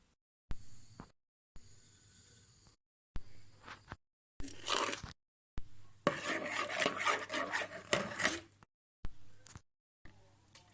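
Dough for a poppy seed pastry is kneaded by hand with flour in a bowl, in short bursts of close rubbing, squishing and scraping separated by gaps of silence.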